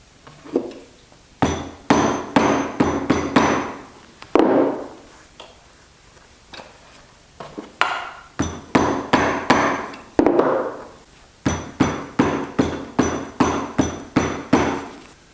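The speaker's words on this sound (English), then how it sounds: "So I'm just going to go to the anvil and smash it down with a hammer." Bursts of sharp hammer blows on buckskin leather over an anvil ring out in quick rhythmic runs, six to eight strikes each, separated by short pauses, close and loud.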